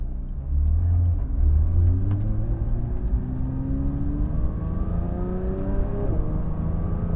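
A Porsche 992 GT3 engine revs hard and loud from close by, its pitch climbing in long rising sweeps over a heavy, steady exhaust roar with no voices.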